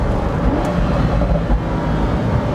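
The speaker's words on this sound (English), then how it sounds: "oh yeah, you can hear more of the exhaust." A Pagani Huayra roadster exhaust heard while driving, a deep continuous engine rumble with steady road and wind roar, loud and close, no voices over it.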